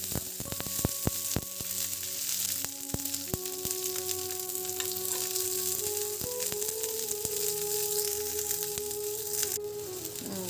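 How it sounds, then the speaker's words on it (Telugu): Green chillies fry in a pan for a mint chutney, a bright continuous sizzle with sharp crackles and pops, plus a few scraping touches of a utensil against the pan. "పచ్చిమిర్చి కూడా వేగాయండి"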